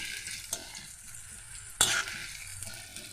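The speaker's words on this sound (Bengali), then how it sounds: "আপনারা ভালোভাবে নাড়াচাড়া করে নেবেন।" Sliced onions fry in hot oil for Bengali chicken kosha while being stirred with a spatula. A soft, steady sizzle runs throughout, with a couple of scraping strokes, one sharper than the other.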